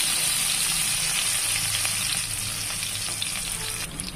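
Oil sizzles steadily in a hot pan at the start of cooking pulao, a dense, continuous frying hiss heard up close with no talking.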